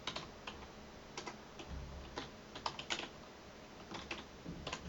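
Someone types Selenium Java code on a computer keyboard, producing quiet, close key clicks in uneven runs and pauses, with occasional heavier taps, alone against a faint background.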